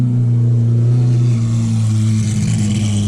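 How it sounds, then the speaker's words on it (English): Lamborghini engine, likely an Aventador, idling loud and close at a car show, a steady deep low rumble held throughout with a slight rise near the end, no voices. "You got to hear this car. This thing sounds absolutely insane."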